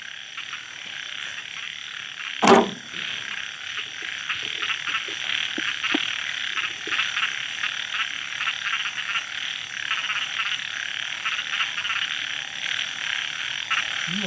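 Toads croak in a dense, continuous chorus after heavy rain in the countryside, the calls overlapping steadily throughout, with one sharp close knock near the start.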